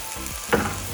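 Peas tipped into hot oil for chicken fried rice hiss and crackle in one short burst of frying, close and fairly loud with a steady background sizzle, no voices.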